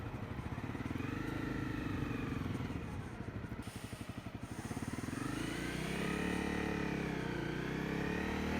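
A Honda CRF 250L rides on the road with a steady engine drone and wind rush that dip briefly around mid-ride and then climb as the bike speeds up again, heard close from the rider's position.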